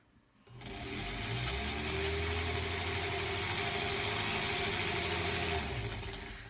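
A sewing machine stitches quilt pieces, starting after a short pause and then running as a continuous close, steady whirring hum until the end, with no talking.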